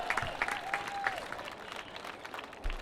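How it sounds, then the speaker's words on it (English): Spectators applaud steadily at a women's singles pickleball match, a faint, distant patter of clapping with a few scattered cheers that fades slightly over a few seconds. "The crowd goes wild"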